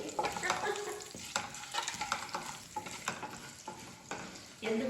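Seeds and chillies tempering in hot oil, a crackling sizzle with sharp pops and stirring scrapes, close and steady, with a faint voice underneath.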